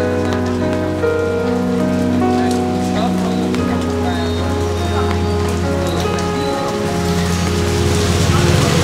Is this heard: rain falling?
yes